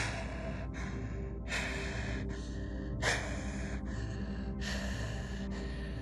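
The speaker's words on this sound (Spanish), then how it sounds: "un jadeo detrás de ellos" Repeated sharp breathy gasps and heavy breaths, several bursts in an uneven rhythm over a low steady hum, close and fairly quiet.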